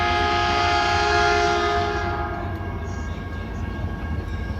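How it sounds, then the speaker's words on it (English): Caltrain train 314 bound for San Jose rolls through Redwood City station with a loud sustained horn blast, then the heavy rumble of passing cars carries on alone. "Train 314. That train is headed to San Francisco"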